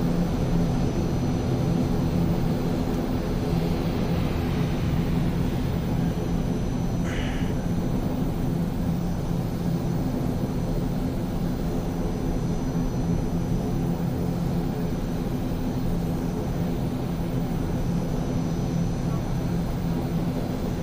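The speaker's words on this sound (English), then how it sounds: "we're taxiing down to 27, which is the runway we come in on" An ATR-72-600 turboprop airliner taxis toward the runway at London City in Microsoft Flight Simulator, giving a steady, loud engine drone that holds an even, unbroken level throughout with no voices over it.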